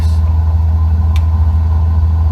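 A light aircraft engine in Microsoft Flight Simulator runs steadily at full power for takeoff, a loud, continuous low drone with no talk over it.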